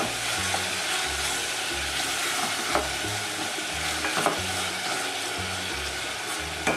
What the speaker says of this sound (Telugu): ఇప్పుడు అల్లం వెల్లుల్లిపాయ పేస్ట్ 2 స్పూన్లు వేసుకోవాలి. ఇది కూడా పచ్చి వాసన పోయే వరకు వేయించుకొని